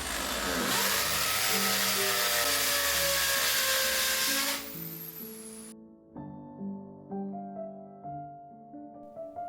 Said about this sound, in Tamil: இப்போ 4 ஹோல்ஸையும் நான் ட்ரில் பண்ணிட்டேன்.